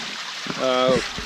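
A small waterfall where a stream spills onto a rocky beach on the Bay of Fundy gives a steady rushing hiss throughout, with a brief tonal voice-like sound over it midway.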